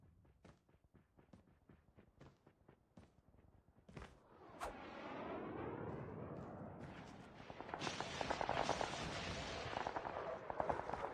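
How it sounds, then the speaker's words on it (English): Napalm strike in Call of Duty mobile multiplayer: a run of sharp gunshot cracks gives way to a rising, sustained roar of explosions and burning that stays loud through the end. "Napalm deployed."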